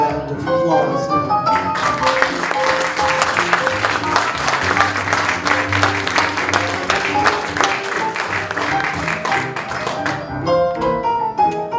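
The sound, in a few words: audience applause after a song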